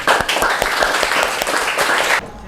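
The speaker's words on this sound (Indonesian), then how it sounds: "Tepuk tangan untuk kelompok 2." A room full of people claps and applauds for a couple of seconds, a dense burst of hand claps that stops suddenly.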